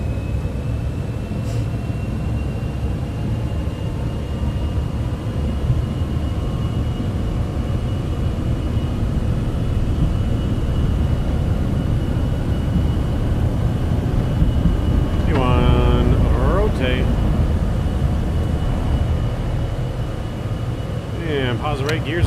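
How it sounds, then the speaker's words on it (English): A Citation X business jet spools up to takeoff thrust in Microsoft Flight Simulator 2024, a steady loud engine roar with a high whine held throughout, while a voice talks briefly over it near the end. "Takeoff thrust set."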